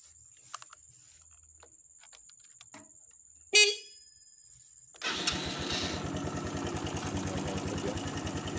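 An old motorcycle used as a grass-cutter's becak starts on its electric starter: quiet ticks and a sharp horn-like burst, then the engine catches and settles into a rapid, steady idle chugging close by.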